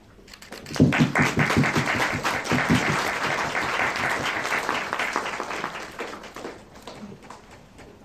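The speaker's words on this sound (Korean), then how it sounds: "들어오시면 큰 박수 부탁드리겠습니다" An audience at a Korean film event breaks into loud, sustained applause that swells quickly and holds steady for several seconds before tapering off, with no talking over it.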